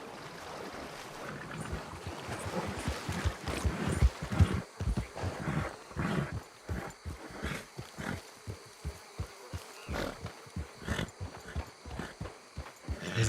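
Horse in Red Dead Redemption 2 trotting and galloping, rhythmic hoof clip-clops growing steadier over wind and ambient outdoor noise, with no talk.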